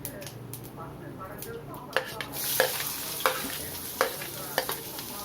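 Finely chopped onion tipped into a pan of frying mustard seeds, bringing a burst of sizzling partway through, followed by steady frying with repeated sharp scrapes of stirring.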